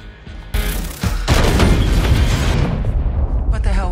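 Loud action-film explosions and gunfire: sharp blasts burst in one after another, then a dense, sustained rumble of detonations and debris that slowly fades.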